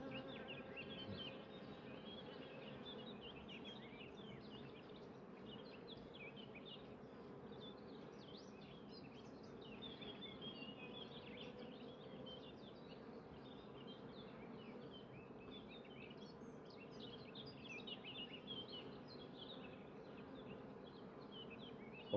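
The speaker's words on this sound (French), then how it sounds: "je vais quand même garder les abeilles qui sont dessus" Honeybees hum steadily around an open nucleus hive during beekeeping work, a dense continuous buzz of many insects close by, with no voices.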